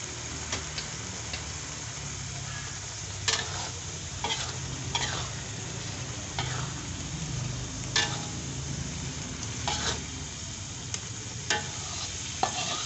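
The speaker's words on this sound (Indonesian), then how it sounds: "Setelah bumbunya mateng, kita masukkan bakso yang sudah digoreng tadi." Fried meatballs are stirred into chili sambal cooking in a pan, with a continuous sizzle and frying hiss broken by repeated scraping and clacking strokes.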